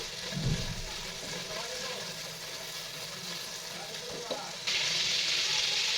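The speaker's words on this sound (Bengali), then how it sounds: "এখন আমি চিকেনটা একটু হালকা ভেজে নেব" Chicken lightly frying in a pan for vegetable chowmein, a steady hiss of sizzling oil with a brief low thump near the start and the sizzle growing louder and brighter toward the end.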